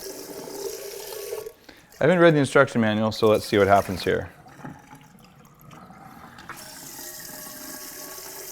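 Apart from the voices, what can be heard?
hot water running while rinsing new Cuisinart coffee maker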